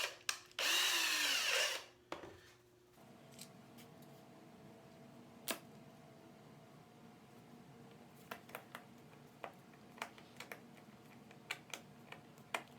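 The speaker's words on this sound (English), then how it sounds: "I'm going to drill some tiny little holes" A power drill whirs in one loud, close burst of about a second while boring small screw holes in wood for a shooting board, followed by quiet workshop taps and clicks.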